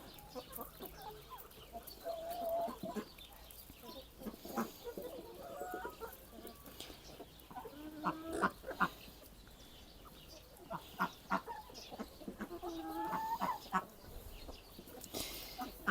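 Chickens, including an old hen and a young naked neck hen, clucking and murmuring nearby, intermittent calls rising and falling over a busy outdoor background, with a few sharper squawks.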